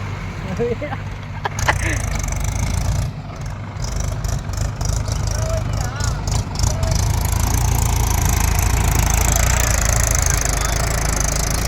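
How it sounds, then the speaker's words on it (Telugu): A 575 tractor engine runs continuously with a loud, low, chugging rumble close by, while people talk over it. "ట్రాక్టర్ సౌండ్ జేసీబీ సౌండ్ అయితే బాగుంటుంది ఒకసారి అయితే వినండి"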